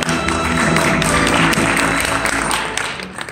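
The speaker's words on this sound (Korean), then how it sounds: "박수로 맞이해주시기 바랍니다." An audience at a fintech demo day applauds to welcome a presenter, a loud, dense burst of clapping from a room full of people that holds steady and then begins to fade.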